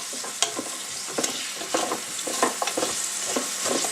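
Pot roast meat seasoned with salt and pepper being stirred in a hot pan: continuous close sizzling broken by frequent scraping knocks of the utensil, irregular and busy, with no one speaking.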